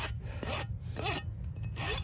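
A hoof rasp scrapes around a horse's hoof during a trim, making four rough, scratchy swipes close to the mic in a steady back-and-forth rhythm over a low background hum, with no voices.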